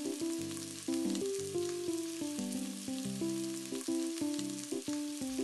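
Green chillies and garam masala sizzle and fry in a pot of chicken and pumpkin curry, a steady close hiss under background music with no talk.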